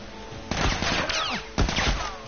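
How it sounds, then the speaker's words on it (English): Gunfire in The Last of Us striking the player character, two loud bursts of shots about a second apart, each with sharp cracks and a ringing tail over a dense background. "Of course I was going to get shot there."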